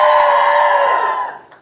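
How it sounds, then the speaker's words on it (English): Fans at a Williams racing fan zone give a short, loud collective cheer, one sustained shout that fades out after about a second. "we're going to do a cheer on the count of 3 and then Alex will take it"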